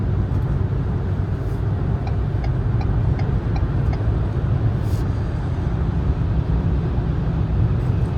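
A 2022 Ford Maverick Lariat with the 2.0-liter turbo and all-wheel drive cruises at half throttle, a steady engine hum under constant road and tire rumble inside the cabin, with no voices.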